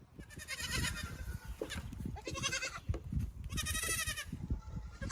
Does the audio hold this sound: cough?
no